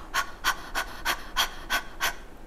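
A person imitates dog-like panting as a breathing exercise for flute staccato practice: seven quick, evenly spaced breathy puffs, close and fairly loud, with no talking.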